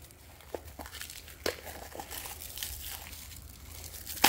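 Protective wrap is peeled and torn off a Whiskey Bent Metal Worx exhaust tip for a 2021 Kawasaki Brute Force 750, giving close, crinkly rustling with several sharp tearing snaps spread across the stretch.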